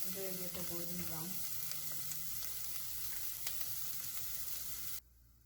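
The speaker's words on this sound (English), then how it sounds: "When you fry them in the oil, you get a good flavor." Pepper and cumin powder frying in oil for a mutton bone soup, a steady close sizzle that stops abruptly near the end, with a faint low voice-like murmur early on.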